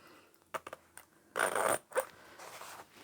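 A zipper pull is pushed onto zipper tape while sewing a boxy upholstery fabric bag, giving a few faint clicks and a short scraping rustle, close and quiet with no talk.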